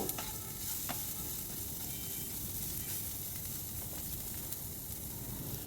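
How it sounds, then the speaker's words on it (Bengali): Sliced onion fries in a pan for a spiced potato breakfast dish, giving a continuous close sizzle with a few stirring clicks and scrapes, no voices. "পেঁয়াজটা জাস্ট একটু সফট হবে ততটুকুই কিন্তু ভেজে নেব"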